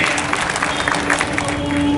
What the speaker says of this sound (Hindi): ताली बजाइए साहब